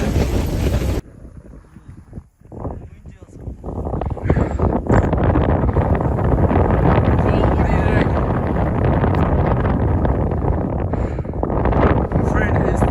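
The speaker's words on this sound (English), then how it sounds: "Got there about 80-90k an hour wind" Strong gusting mountain wind at a high-altitude camp in the Himalaya, roaring and buffeting the microphone loudly and almost continuously after a brief quieter opening, with a short lull partway through.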